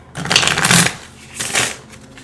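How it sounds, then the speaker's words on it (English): Tarot cards being shuffled and drawn, two quick bursts of crisp riffling and flicking, close and fairly loud, separated by a short pause. "So I'm going to grab one more card"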